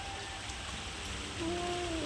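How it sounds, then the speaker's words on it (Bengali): Heavy rain pours down in a steady, dense hiss that swells slightly toward the end, with a faint tonal whine briefly audible. "এই যে ভালোই বৃষ্টি হচ্ছে"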